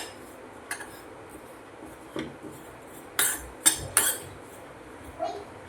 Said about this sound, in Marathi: आता आपण यालाही छान परतून घेऊया चांगलं मिक्स करून घेऊया